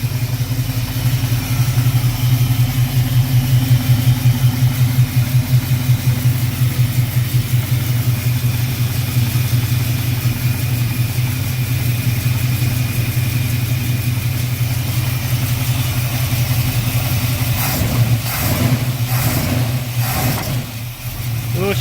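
A cold car engine with an upgraded 10-bolt rear end idles steadily and loud, close by, its low rumble holding even throughout, with a few sharp bangs near the end.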